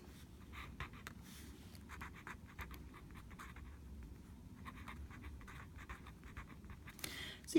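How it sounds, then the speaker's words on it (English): Pen sketching on paper, a soft continuous scratching with short strokes and pauses, faint and close, with no talk. "I'll draw it in a different color so you can see"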